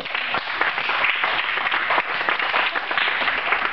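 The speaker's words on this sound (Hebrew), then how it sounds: "כפיים להילי" An audience applauds a young student for about four seconds: dense, steady clapping that stays fairly loud and even throughout, with no voices over it.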